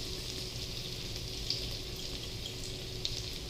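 Garlic sizzling in hot oil in a pan for chicken fried rice, a steady, even hiss that holds at moderate level throughout without pause.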